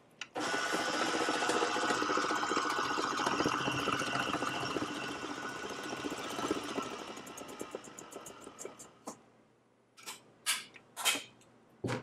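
A stand mixer fitted with a scraper beater mixes alfajores dough, giving a steady, close motor whir with rhythmic churning for about ten seconds before stopping, then a few brief clinks and knocks.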